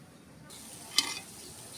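Greens with a few lemon leaves and garlic paste hit a hot pan in a Bangladeshi kitchen, giving a soft, steady sizzle with one brief sharp crackle as they land, fairly quiet and close.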